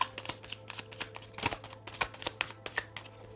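Tarot cards being shuffled by hand in a quiet room, a rapid run of crisp riffling flicks and soft slaps, close and fairly faint, with no voices.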